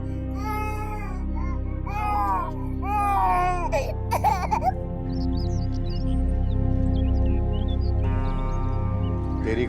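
An infant cries in wavering, rising-and-falling wails through the first half inside a house, set over a steady low hum, with faint chirps and a few sharp knocks later.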